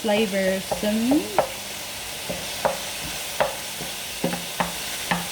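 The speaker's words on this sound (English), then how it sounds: "Stir all that in" A spoon scrapes and knocks against a pan while cottage pie filling sizzles faintly underneath. A short rising whine comes first, followed by a series of evenly spaced stirring clacks.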